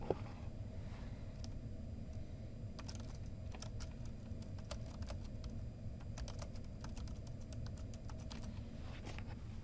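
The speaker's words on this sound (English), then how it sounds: "So let's type in one." Quick bursts of typing on a computer keyboard, faint and scattered keystrokes over a steady low background hum.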